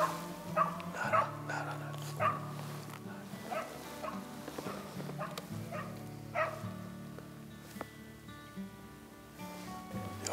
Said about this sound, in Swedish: Det har varit en hund där.